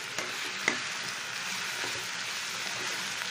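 Chicken pieces, washed with salt and turmeric, sauté in a pan for chicken stew. The steady, close sizzle and frying hiss carries an occasional faint stir or tap.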